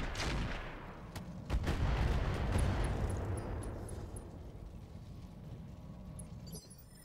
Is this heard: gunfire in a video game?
yes